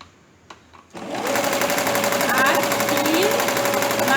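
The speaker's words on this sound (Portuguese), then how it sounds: "vou passar uma nova costura reta" A sewing machine runs a straight seam with a 1 cm allowance on fabric, its fast, steady mechanical whirring starting after a second of near silence and continuing loudly and evenly to the end.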